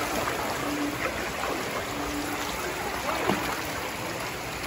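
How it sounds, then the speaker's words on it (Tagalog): Floodwater runs through a flooded neighborhood street, producing a steady, continuous rushing wash with faint gurgles and splashes, moderately loud and unbroken, with no talking. "Grabe ang baha, oh."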